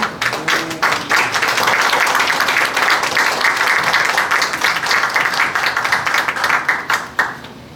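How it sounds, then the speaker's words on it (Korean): A crowd at a book launch event applauds loudly and steadily, the clapping swelling quickly and then tapering off into a few scattered claps at the end. "무대를 큰 박수로 함께 해보겠습니다"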